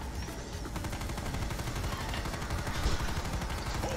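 Rapid, continuous gunfire aimed at barrels in Call of Duty's Dead Ops Arcade, a dense stream of shots running without pause over the game's loud backdrop.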